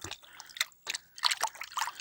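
Water trickles and sloshes in a container as soap is mixed in to make soapy water for a garden whitefly spray, in a few short splashy bursts.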